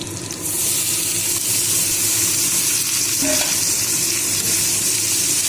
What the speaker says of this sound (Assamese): এতিয়া পাঁচফোৰণ আৰু এয়া পিঁয়াজটো দি লৈছোঁ।